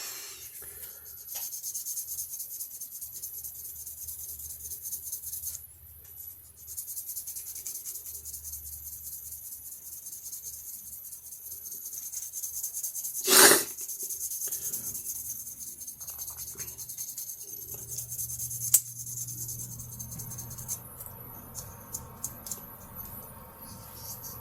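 A slot car body being sanded to remove scratches: soft, continuous raspy rubbing strokes close by, with a brief loud scrape partway through and light handling taps toward the end, no voices.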